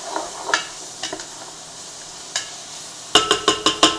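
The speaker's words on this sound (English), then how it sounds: "I'm going to give this a little stir" Minestrone vegetables being stirred in a pot, with soft scraping strokes and a faint sizzle early on, then a quick run of five sharper utensil knocks against the pot near the end.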